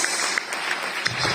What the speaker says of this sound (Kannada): ಚಪ್ಪಾಳೆ ಪ್ಲೀಸ್.